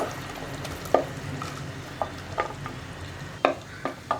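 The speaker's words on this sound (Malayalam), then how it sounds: "ഞാനിപ്പോൾ സവോളയും ഇഞ്ചിയും പച്ചമുളകും ഒക്കെ വഴറ്റിയെടുക്കാൻ പോകുന്നത് അപ്പോൾ നമുക്ക് വെളിച്ചെണ്ണയിലേക്ക് ആദ്യം നമ്മൾ മുറിച്ച് വെച്ചിരിക്കുന്ന ഇഞ്ചി അതുപോലെ തന്നെ സവോള" Ginger, onion and green chilli sauté in coconut oil for an Angamaly mango curry, a soft steady sizzle broken by several sharp spoon-against-pan knocks and scrapes, close up with no voices.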